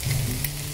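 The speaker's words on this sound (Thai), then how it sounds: "ตอนนี้ใช้ไฟอ่อนเลยนะคะคั่วพอให้พริกหอมๆนะคะ" Chilies stir-frying over low heat in a pan for a chili-salt egg dish, a brief, steady frying hiss with a low hum underneath, close and unbroken.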